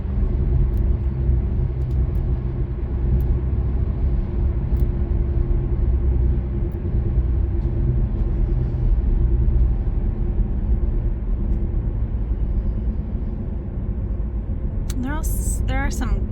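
A car driving along the road to Fort Morgan makes a steady loud rumble of engine and road noise throughout, with a brief higher chirp near the end.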